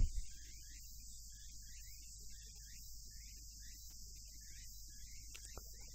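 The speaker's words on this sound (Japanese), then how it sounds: "セミの応援団が 外で騒いでますけれども" Cicadas chirr outdoors in a continuous high, shimmering drone, heard faintly from a distance, with no one talking.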